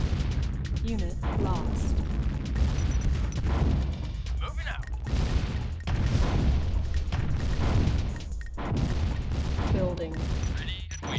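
Big explosions boom in the DTA real-time strategy game as a nuclear weapon detonates during an online three-player free-for-all, with a dense run of bursts and blasts continuing throughout while a synthetic announcer voice speaks over it.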